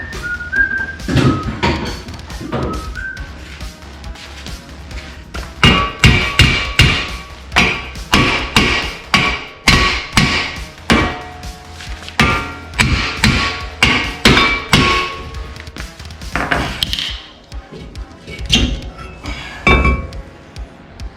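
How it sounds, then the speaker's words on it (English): Repeated metallic hammer blows on a stuck part of a BMW E36 328is ring out in irregular bursts, some clanging sharply, with quieter tapping and clinks between the heavier strikes. "have to give it a little bang with the hammer"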